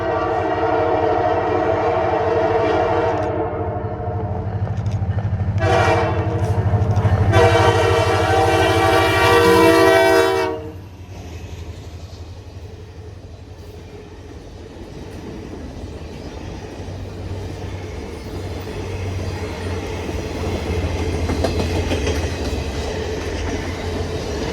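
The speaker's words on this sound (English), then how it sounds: "We would catch up to the train running track speed at Washington Avenue in Chazy." Canadian Pacific Holiday Train passing at track speed near Washington Avenue in Chazy, its horn blaring loud and close for several seconds over a steady rumble of rolling cars, then the rumble continuing as it moves on.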